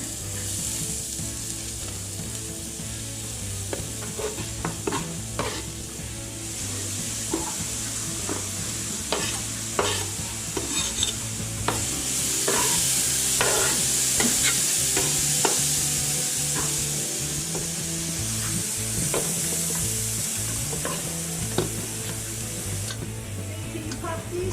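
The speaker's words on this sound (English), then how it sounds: "Stir that in until it's fully incorporated." Sweet and sour venison heart stirs and fries in a pan, a steady sizzle with repeated scraping and clicking strokes of a utensil, close and fairly loud throughout.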